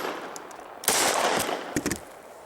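Glock 19 pistol fitted with a 30-round extended magazine fired at point-blank range: a loud burst of several rapid gunshots with a short pause, then a couple more sharp reports, no talking.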